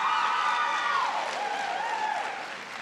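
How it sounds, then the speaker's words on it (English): Clapping from the crowd at a school district Teacher of the Year celebration after an award from a Ford dealership, moderately loud with tonal voices or cheers running through it, fading slightly toward the end. "Now, you may clap,"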